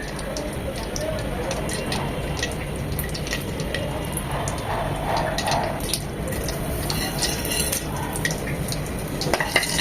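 Two cinnamon sticks, six or seven peppercorns, two cloves and three cracked cardamom pods sizzle in hot oil in a pan, a steady close crackle with light utensil clinks and a voice talking over it.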